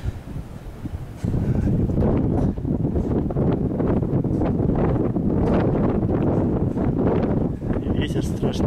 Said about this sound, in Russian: И ветер страшный.